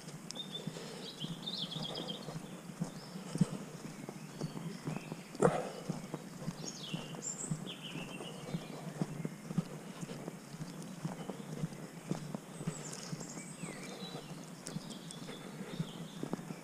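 Horses walking on a woodland path, scattered hoof clops over a quiet outdoor background with occasional bird chirps, one louder knock partway through.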